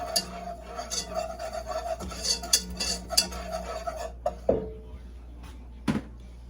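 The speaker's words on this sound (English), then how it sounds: "Just keep stirring." Flour roux for bacon macaroni and cheese being stirred in a pan, soft rhythmic scraping and rubbing strokes with occasional light clinks of the utensil against the pan.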